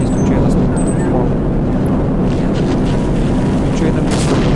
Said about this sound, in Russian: Что-то бабахает, взрывается.